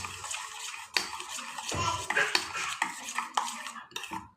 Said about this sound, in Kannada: ಹಾಕಿ ಚೆನ್ನಾಗಿ ಮಿಕ್ಸ್ ಮಾಡ್ಕೋಬೇಕು